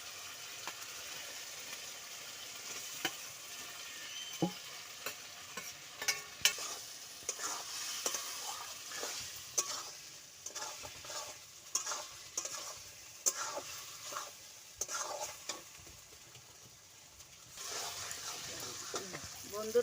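Taro stolons being stirred and fried with spice paste in a pan, giving a steady low sizzle broken by frequent scraping stirs of the spatula, close up and fairly quiet, with no talking.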